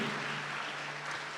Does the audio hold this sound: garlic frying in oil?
no